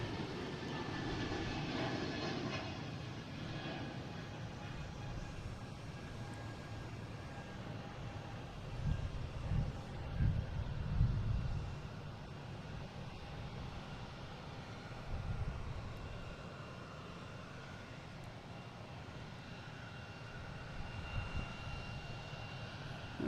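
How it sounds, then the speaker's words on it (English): A Delta jet airliner arriving from Indianapolis at Boston Logan airport, heard as a steady distant engine roar that swells slightly midway and then settles into a continuous rumble. "This was a Delta just came in from Indianapolis."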